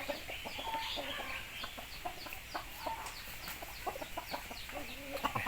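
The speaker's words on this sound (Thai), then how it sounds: "ก็เลยเอาไก่มาตากแดดนิดหน่อย" Young roosters set out in the sun on a Thai farm, clucking and squawking in a busy, overlapping chorus at moderate distance, with scattered sharp calls and faint background noise throughout.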